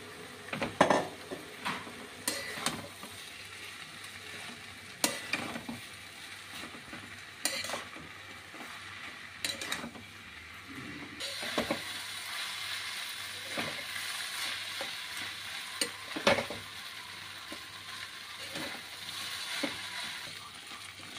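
Chow mein noodles stir-fried in a pan, with steady sizzling under repeated scraping and clattering of a utensil against the metal, several sharp clanks spread through the stretch and no talking.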